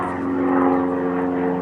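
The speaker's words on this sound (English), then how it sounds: "there's some damn plane in the sky that's wrecking my fucking video" An airplane flying overhead, a steady droning engine hum with strong tonal whine, loud and continuous through the short stretch without talk.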